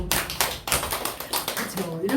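Applause in a church service as the congregation claps for a woman honoured for six years of cleaning work at a prosecutors' office; a burst of clapping runs throughout, with crowd noise and a few voices underneath.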